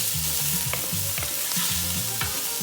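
Chicken and andouille sausage sauté in hot oil, a steady close sizzle broken by scraping stirs of a spoon across the pan.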